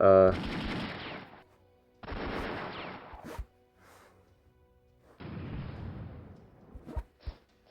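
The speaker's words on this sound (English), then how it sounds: "Clearly that artillery was never going to do much damage." Artillery fire in the video game European War 4 comes as bursts of rapid crackling volleys separated by short silences, ending with a few sharp single booms, moderately loud.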